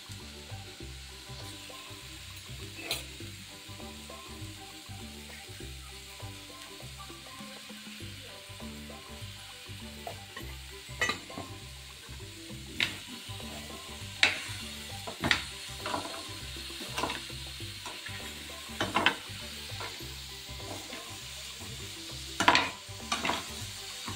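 Sweet potato slices with sugar sizzle and fry on a gas stove, a steady close crackle broken by louder spikes of stirring and scraping toward the end, with no voices.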